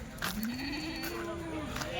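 A Kathiawadi dairy goat bleats once in a long, wavering cry close by, with farm chatter and background voices around it.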